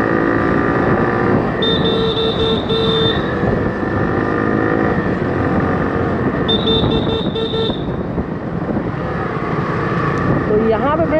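A 2023 BS6 Hero Glamour 125 motorcycle rides along a road, its engine droning steadily with traffic noise around and brief horn toots, while someone talks over it throughout.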